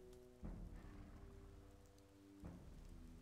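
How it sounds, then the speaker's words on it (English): Steady rain patters across the whole stretch in the Gothic 2 game world, a dense wash with low rumbling swells near the start and again later, no voices over it. "It's raining, I believe, right?"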